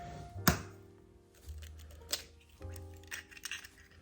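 Extra large eggs cracked into a bowl of cake mix: a sharp tap near the start, then softer knocks and wet drops spaced irregularly across the clip, quiet and close.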